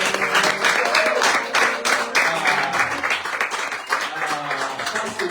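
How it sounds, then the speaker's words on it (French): A church congregation applauds and cheers for the Lord, with steady dense clapping throughout and crowd voices calling out beneath it. "Est-ce qu'on peut encore acclamer le Seigneur?"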